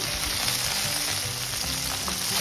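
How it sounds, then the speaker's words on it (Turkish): Okra sizzles and crackles steadily as it fries in hot oil, a dense, continuous frying hiss close up with no talking. "bamyaların birkaç dakika hem kızgın yağda hem de kendi buharında piştikten sonra"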